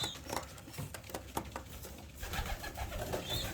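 Pigeons coo softly in a loft amid a busy rustling, pattering background, with soft wing flutters and scattered taps, fairly close and steady throughout.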